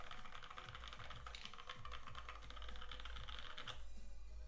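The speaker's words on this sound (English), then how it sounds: "get some typing tests going. This thing sounds good." Rapid, steady typing on a Space65 mechanical keyboard fitted with Outemu Sky switches, dense clacking keystrokes close to the mic throughout with no talking.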